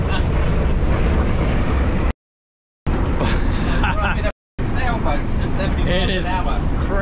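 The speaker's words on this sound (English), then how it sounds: "the wind is really bad" Strong gusty wind buffeting an RV on the highway, a loud continuous roaring rush broken by two brief dropouts, with blustery swells over the road noise.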